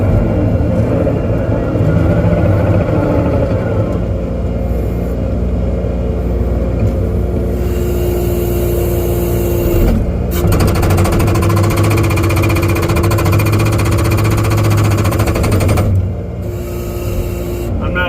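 A skid steer breaks concrete, with a continuous heavy engine drone and rapid hammering rumble, loud and close, shifting in tone midway and easing briefly near the end.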